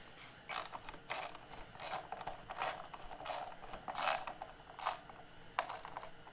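Repeated ratchet clicks from tightening a bolt during an oil change on a 2022 GPX Moto FSE300R come in about eight evenly spaced metallic bursts, close and fairly quiet, with no talking.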